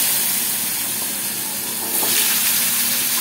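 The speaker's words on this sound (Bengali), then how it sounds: "এবার আমি আলুগুলো দিয়ে দেবো।" Potatoes dropped into hot oil with black cumin (kalo jeere) in a home kitchen give a steady, loud hissing sizzle that swells louder about halfway through and holds, with no talking.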